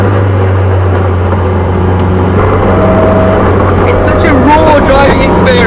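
A car travels at 30-40 miles an hour with a loud, steady engine drone and road rumble from inside the cabin, while someone talks over it.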